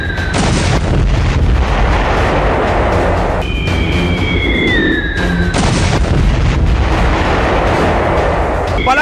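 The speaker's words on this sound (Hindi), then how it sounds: "सेना ने तोपों से ऐसे गोले बरसाए" Army artillery guns fire shells along the Line of Control, loud booming blasts with sharp onsets landing close together, and whistling tones sweep across the middle of the clip.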